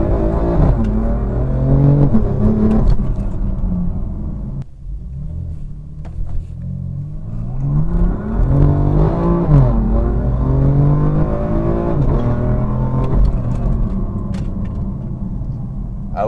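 A BMW M4 engine rumbles deep and loud from inside the car while driving, its pitch rising and falling as it accelerates and shifts gears, with a short dip in the middle before it builds up again.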